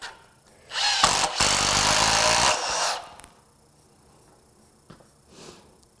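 Impact driver fitted with a Makita impact bit hammering briefly in one loud burst of about two seconds, followed by quiet with a few faint clicks and handling knocks.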